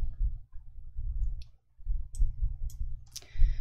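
Mouse clicks in Excel, a few sharp isolated clicks spaced out over low background rumble, with no voice.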